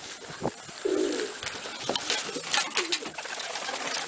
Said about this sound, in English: What is up with this pigeon?